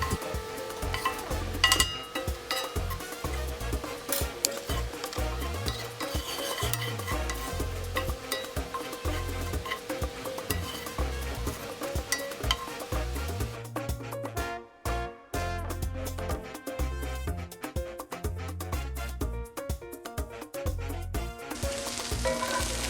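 Shrimp for tacos fry in a pan until crispy, sizzling continuously and loudly, with occasional clinks of utensil against the pan and background music throughout.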